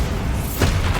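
In Hogwarts Legacy, a Bombarda spell explodes as a short, dense rumbling boom, with a sharper burst swelling about halfway through the brief moment, loud and close with no talking.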